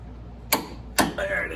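A wrench tightens a nut on a Ridetech C3 front suspension to 100 foot-pounds, giving two sharp, close clicks about half a second apart, followed by a faint ringing tail.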